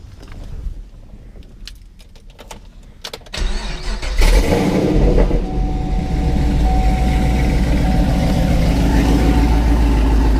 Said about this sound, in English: I'll start it up